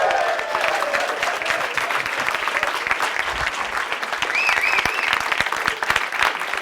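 Audience at a Startup Grind event applauding and cheering to welcome guest speaker Fred Schaufeld, steady dense clapping with a few whoops throughout.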